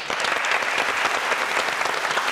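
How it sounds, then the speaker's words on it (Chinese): Studio audience applauding on a Taiwanese television variety show, a dense, steady burst of clapping that fills the whole moment, loud and even with no pauses. "掌声鼓励。"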